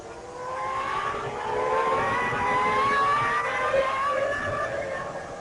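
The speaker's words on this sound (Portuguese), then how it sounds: "Aí você está vendo o carro de Rubens Barrichello, Rubinho que vem na 5ª posição" Formula 1 cars from the 1999 Malaysian Grand Prix scream past at a distance, several high-revving engines overlapping in rising and falling whines that swell and hold steady, with no talk over them.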